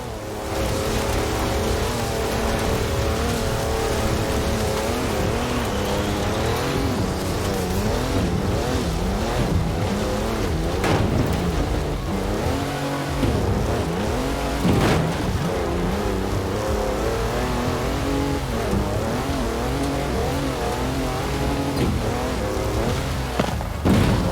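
A high-powered 340-horsepower car drives through Edinburgh toward Arthur's Seat in Forza Horizon 4. Its engine drones loudly and steadily throughout, rising and falling with gear changes, with occasional thumps.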